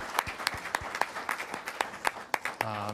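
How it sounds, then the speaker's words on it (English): A school board meeting audience gives scattered applause for middle school robotics students, a thin run of distinct individual claps that fades as a voice begins speaking. "Huge round of applause for Sabin."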